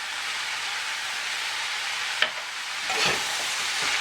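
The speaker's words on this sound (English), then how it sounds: "Give that a good stir." Roasted ground cumin, amchar masala and curry powder frying in a small pot, a continuous close sizzle with a brief clatter of a spoon stirring partway through.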